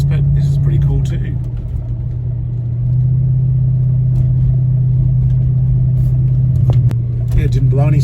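A Mercedes 280SE with a six-cylinder engine climbing a hill, a steady loud low engine drone heard from inside, with people talking over it.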